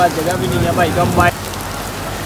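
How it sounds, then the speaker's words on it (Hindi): Steady rain patters on a surface at an outdoor cattle market while someone talks over it for the first second; after he stops, only the rain hiss continues. "बारिश फिर से आ जाती है"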